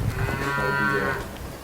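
A dairy cow on a Ugandan farm gives one long, loud, drawn-out moo close by, with no one talking over it.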